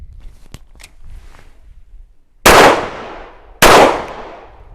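Two loud, close pistol shots crack at a shooting range about a second apart, each ringing out with a decaying tail, after a few quiet handling clicks and faint shuffling.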